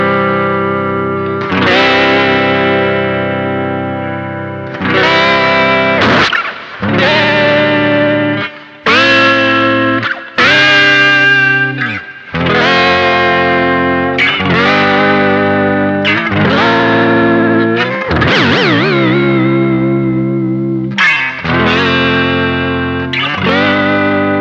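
Electric instrument notes run through a Bleak Disctic Electric Rec Head pedal, its lo-fi pitch-shifting effect dragging pitch far off, loud and distorted with warbling, bending tones, in a series of separate sustained phrases with brief gaps.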